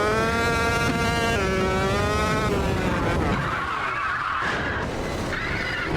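A racing go-kart engine whines in Automobilista 2, its pitch rising and bending, then gives way to a loud, sustained tyre skid. Everything is close and continuous, with no voices.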